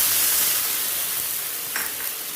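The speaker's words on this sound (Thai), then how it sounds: "พอเราผัดได้สักครู่หนึ่งนะคะ เติมน้ำลงไปเลยค่ะ" Steady, hissing sizzle of peas and shrimp stir-frying in a hot pan, with a brief louder splash of water near the end.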